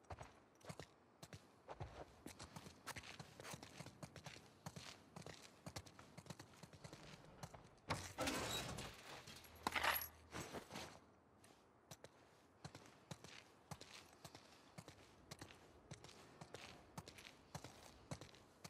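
Horse hooves in the video game The Last of Us Part II, a steady walking clip-clop on hard ground at moderate volume, with a louder rustling surge in the middle and faint ambient noise throughout.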